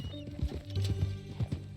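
A horse in Red Dead Redemption 2 clip-clops with a few close, distinct hoof thuds and lets out a nearby whinny, with a low ambient hum beneath.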